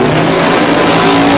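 Pickup truck at a drag-and-drive event making its drag strip launch, the engine roaring loud and close with a constant full-throttle drone through the whole short burst.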